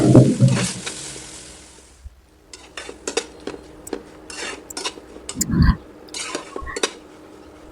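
Shrimp heads fry in a pan in a home kitchen, with scattered clinks and scrapes of a utensil against the pan between quieter gaps, close and intermittent.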